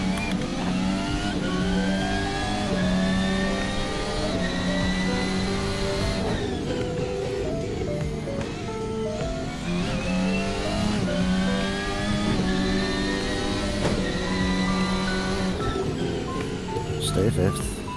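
A car engine in an Assetto Corsa VR racing video game revs up and down repeatedly at high revs, pitch climbing then dropping through gear changes, loud and continuous throughout.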